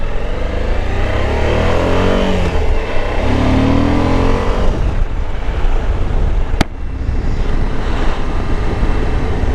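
A Suzuki V-Strom 1050 motorcycle is ridden on nearly new tyres. Heavy wind rush covers the engine, which rises in pitch twice as it revs, and a single sharp click sounds near the end.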